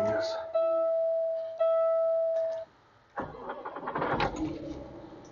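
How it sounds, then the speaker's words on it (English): A classic black Peterbilt truck's engine is started: a steady whining crank for a couple of seconds, a short gap, then a rumbling catch into a rough idle nearby. "Get her fired up."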